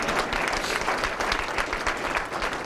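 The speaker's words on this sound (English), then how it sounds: "That's an applause line." Audience at an economic development corporation presentation applauds with steady, dense clapping, fairly loud and even throughout the short burst.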